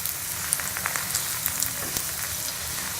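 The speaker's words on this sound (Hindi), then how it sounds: "इसकी साइड को चेंज कर लेंगे और इसको हम स्लो आंच पे पकाएंगे।" Sweet sugar paratha cooking in a pan over a slow flame gives a steady, soft sizzle of frying with faint crackles and pops throughout, close and unbroken.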